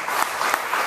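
An audience claps at a StubHub fundraising event, a short burst of dense, steady applause from a crowd with no voices over it.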